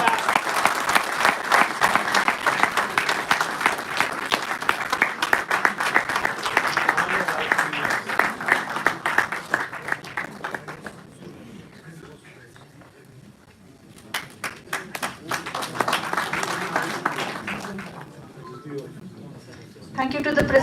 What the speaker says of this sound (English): let's have some claps.